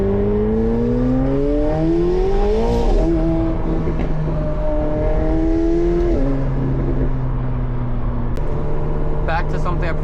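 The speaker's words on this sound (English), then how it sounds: "you still get all that induction noise and those pops again" A McLaren supercar's engine drones and rises through the revs with strong induction noise, then a few sharp exhaust pops crackle near the end, all under someone talking.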